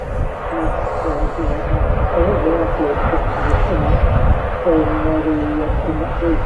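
A Turkish Airlines Boeing 737 Max 9 jet at an airport, its engine producing a steady loud rumble throughout while people talk over it.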